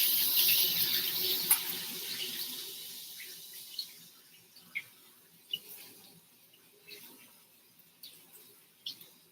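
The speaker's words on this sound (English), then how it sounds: "So I'm going to wash my hand." Tap water runs steadily into a kitchen sink as hands are rinsed during pizza dough making, a close, loud hiss at first that thins out, with scattered small splashes and clicks.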